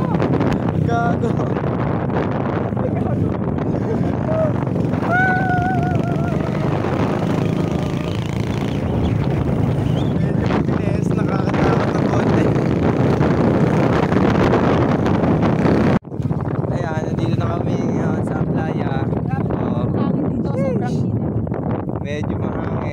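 Strong beach wind rumbles and buffets the microphone almost without pause, a loud, rough roar with occasional gusts, while a voice talks faintly underneath.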